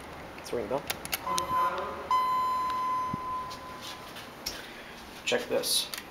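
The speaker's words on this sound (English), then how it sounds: "Let's ring the bell." Alarm bell of a Dover hydraulic elevator in an office building, a steady electronic ringing tone held for a few seconds at moderate level, with speech before and after it.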